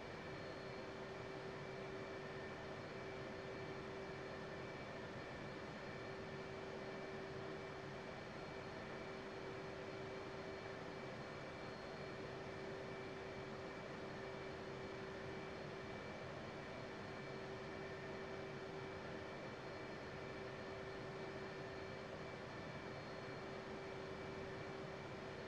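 An F/A-18C Hornet's jet engines idle after a cold start in DCS World, giving a faint, constant whine and a steady tonal hum that hold unchanged throughout, with no voices.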